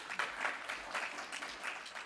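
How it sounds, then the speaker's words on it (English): Audience applause at the Scottish Liberal Democrats Autumn Conference, a fairly quiet, steady wash of clapping from a hall crowd that lasts the whole moment without a break. "yes, you can applaud if you like."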